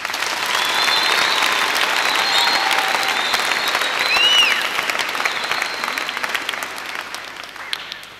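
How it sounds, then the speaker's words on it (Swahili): An audience at a Catholic gathering applauds its benefactors, a loud, full round of clapping that swells and holds for several seconds before slowly tapering off. "Makofi mengi kwa hao tafadhali"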